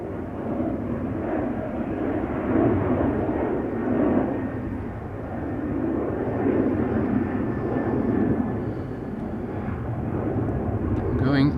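A SunExpress airliner takes off from Schiphol's Polderbaan runway, its steady broadband jet roar holding loud for the whole stretch, swelling slightly at times, with a voice talking over it.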